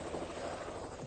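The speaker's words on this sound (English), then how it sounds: "shall we get in the helicopter or wait a moment longer" Steady broadband rotor and engine drone of a helicopter in flight over Lancashire, a continuous close roar with wind buffeting, no clear talk over it.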